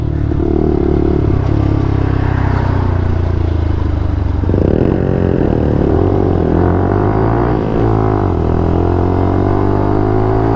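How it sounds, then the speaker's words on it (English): A loud 125cc motorcycle engine runs steadily and close, its tone rising and falling as it revs, with a deep throaty rumble throughout. "I'm quite often jealous of your bike's noise"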